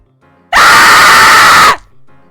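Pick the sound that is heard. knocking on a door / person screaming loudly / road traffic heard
person screaming loudly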